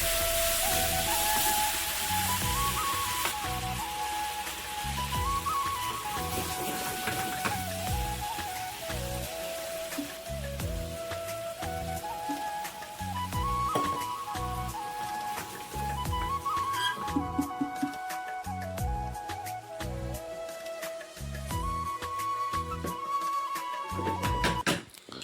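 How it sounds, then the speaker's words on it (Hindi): Masala spices fry in a pan for chicken curry, giving a continuous hissing, crackling sizzle like rain, steady and close, with a melodic music track playing over it. "तो अभी मसाला भून रहे हैं"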